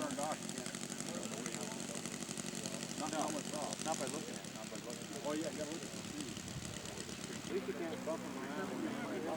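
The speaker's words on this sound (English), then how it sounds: "This is Gus Stutzman taxiing out with his Proctor Newport 28C1, done up in Eddie Rickenbacher's scheme." A scale Proctor Newport 28C1 model biplane in Eddie Rickenbacher's scheme, powered by an OS 160 engine, taxis with a steady buzzing engine drone that runs throughout, with talk over it.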